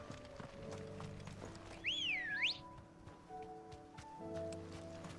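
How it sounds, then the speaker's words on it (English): A horse is ridden in Final Fantasy XVI, its hooves clopping faintly beneath game music, while a sharp rising whistle cuts in briefly near the middle. "Oh, I still can't use the horse."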